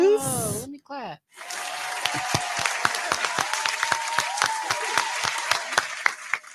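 Applause and clapping in a comedy podcast studio, a voice speaking briefly before a steady run of close, bright claps lasting several seconds, fairly loud, with scattered crowd-like noise behind.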